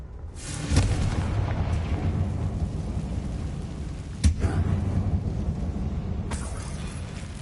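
A Confringo explosion spell cast in Hogwarts Legacy inside an abandoned mine, heard as sharp booming blasts over a steady rumbling roar, with a strong hit early and another midway.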